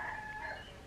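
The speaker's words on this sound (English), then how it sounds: "man, that rooster is loud" A rooster crows near a backyard run for chickens and ducks, one faint, drawn-out call with a wavering tone heard at a distance.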